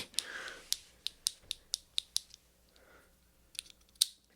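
A lighter's flint wheel clicked over and over up close, a string of sharp, evenly spaced snaps followed by a short pause and a few more clicks, with no voice.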